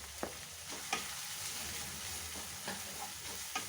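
Sliced onion sizzling in a pan while making appam, a steady frying hiss broken by several sharp scraping stirs spaced through the clip, close and moderately loud with no talking.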